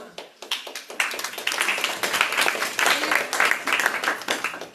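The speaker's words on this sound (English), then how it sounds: "they clap like that's a big accomplishment" A crowd at a question-and-answer gathering in an Atlanta temple hall breaks into sustained, fairly close applause that starts with a few scattered claps and swells into dense clapping for several seconds.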